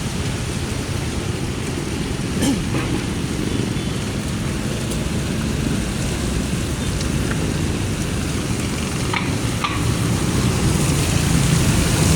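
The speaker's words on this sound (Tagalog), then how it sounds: "Umuulan guys. Na naman." Continuous rain hissing down steadily, a broad even wash of sound with faint traffic noise in the background.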